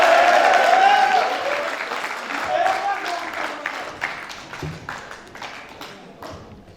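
An audience at a Kyrgyz stage show applauds a group of young performers. The clapping is loud at first, then thins into scattered claps and fades, with a voice speaking over the start.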